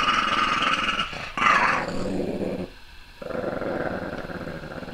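A big dog growls low and continuously, close by, with a brief louder snarl and a short pause partway through.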